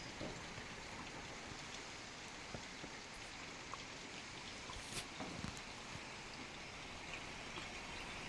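Light rain falls steadily around a cottage on a nature trail in Ramgarh, Nainital, under drifting clouds. The patter is soft and constant, with a few sharper drops here and there and no one talking.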